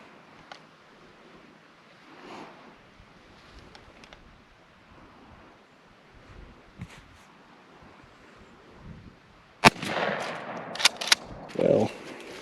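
A Browning BPS 20 gauge pump shotgun fires a 3-inch turkey load through a turkey choke at an outdoor 30-yard patterning test: one sharp, loud blast after quiet wind noise, followed by a few handling thumps and rustles.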